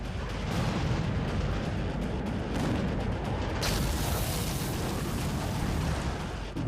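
Cluster bomb explosions in the Russia-Ukraine war: dense, continuous rumbling blasts overlapping one another, loud and heavy throughout, with a sharper burst partway through; no voices.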